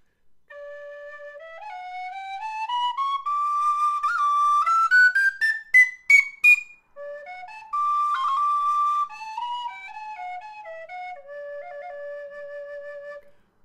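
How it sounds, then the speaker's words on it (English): A Clarke Sweetone tin whistle plays a clear, solo run of notes climbing up the scale, a few quick high tongued notes at the peak, then stepping back down, close and bright with no other sound. "Another very easy to obtain whistle is the Clark Sweet Tone."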